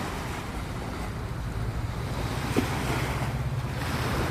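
Steady roar of surf and waves at Dong Tan Beach with wind buffeting the microphone. The sound is continuous and fairly loud, with no voices.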